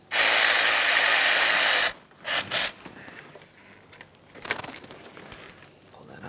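A ratchet works a 10mm bolt loose from the power steering hose bracket on the valve cover of a 2007-2013 Acura MDX 3.7L V6: one long loud burst, then two short quick bursts, followed by faint shuffling.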